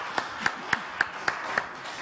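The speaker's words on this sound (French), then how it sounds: "On applaudit très fort la Divine Cathy" An audience claps for the Divine Cathy at a French televised show, a steady run of six crisp, evenly spaced claps, close and moderately loud, with no talking over them.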